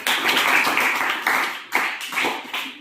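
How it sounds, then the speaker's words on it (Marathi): A group claps together in a brief burst of applause, loud and near, with a few uneven trailing claps. "आपण टाळ्या वाजवून आरतीचं स्वागत करूया"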